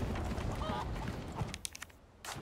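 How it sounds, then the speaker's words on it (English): Chicken in Resident Evil 4 Remake, a faint, honking fowl call over a dense, noisy game background. "Chicken, you are really hurting me."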